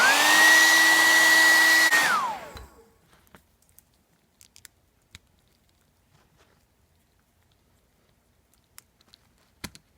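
Heat gun blowing on action figure knee pads: a loud, steady whirring rush with a tonal whine for about two seconds, then spinning down and cutting off, leaving quiet with faint scattered clicks.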